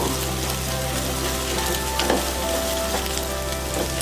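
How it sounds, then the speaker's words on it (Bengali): An egg frying in hot oil for fried rice, a close, steady sizzle with occasional scraping taps of a spoon breaking it up, over a constant low hum and no speech. "তেলটা গরম হয়ে গিয়েছে, আমি ডিমটা ছেড়ে দিব।"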